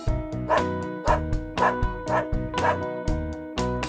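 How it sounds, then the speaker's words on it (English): A dog barks repeatedly in a steady, even rhythm, loud and close, over a tuneful musical backing. "I hear a dog."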